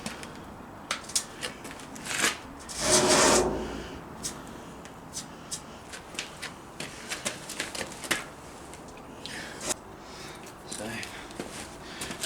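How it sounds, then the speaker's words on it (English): A scribe scratches lines on a heavy steel workshop door, a series of short dry scrapes and ticks, with one longer rub and a low voice speaking between strokes. "So, I'll move that back so I can get some scribe lines."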